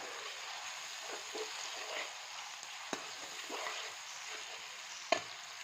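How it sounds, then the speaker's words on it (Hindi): Tomatoes frying with ginger-garlic masala in a pan for a mixed vegetable dish, a soft steady sizzle with occasional faint stirring taps, fairly quiet throughout. "अब हम इसमें टमाटर ऐड कर देंगे और 2 से 3 मिनट जो है वो हम टमाटर को भी भूनेंगे"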